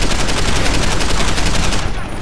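Gunfire in Deus Ex: Human Revolution, a loud, dense stream of rapid shots and bursts running for the full two seconds, like a heavy exchange of fire.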